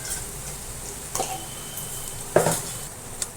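Green chili and turmeric sizzle quietly in a pan while makhana chivada is prepared, with a steady soft fry broken by a few brief stirring scrapes and one louder clink of a spoon against the pan.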